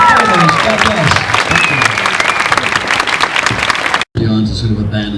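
A large convention audience applauds a presenter with steady, loud clapping that carries on, briefly cut before resuming fainter.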